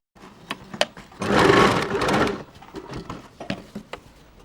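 A sewing machine stitches the shoulder and armhole seams of a baby frock in one steady run of about a second, framed by scattered clicks and fabric handling before and after.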